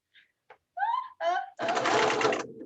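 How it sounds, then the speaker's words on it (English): After a few brief spoken sounds, a sewing machine stitching puffy dress sleeves starts up with a fast, loud, steady whirring buzz that runs for about a second up close. "my machine sews fast"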